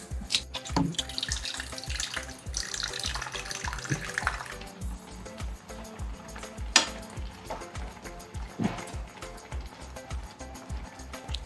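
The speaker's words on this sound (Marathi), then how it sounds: "आता पॅन मध्ये थोडंसं पाणी ओतून घेऊ।" Water pours into a cooking pan for palak paneer, a steady splashing rush with a sizzling edge that runs loud and close for about eleven seconds, with no talking.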